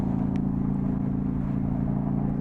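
An Indian Scout motorcycle engine hums steadily while riding through town on a potholed road, a low, even drone held close and loud throughout with no break.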